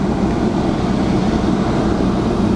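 An automatic Volvo 850 T-5R out on a short test drive gives a steady, loud, rumbling road and engine drone that stays even throughout, with no voices.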